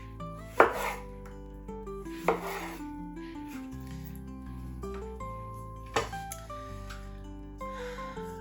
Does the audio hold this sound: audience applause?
no